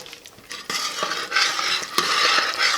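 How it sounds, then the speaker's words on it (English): A spoon stirs thick caramel for toasted almond caramels in a pot, giving a close, steady scraping swirl that builds in loudness across a few strokes. "Give that another quick stir."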